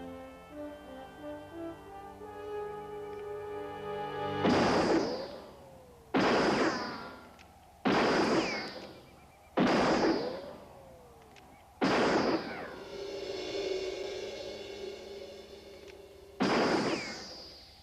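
A gun fired repeatedly until empty, six sharp, loud shots spaced a second or two apart, each followed by a ringing decay, over a sustained musical tone.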